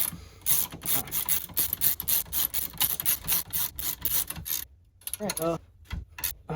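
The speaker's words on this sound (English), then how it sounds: "get it into the housing, and then just keep cranking until it's pressed all the way in" A hand-cranked press ratchets in quick rhythmic clicks while seating a trailing arm bushing into its housing on a 2004-2007 Cadillac CTS-V, followed by a brief pause and a few final creaks and clicks.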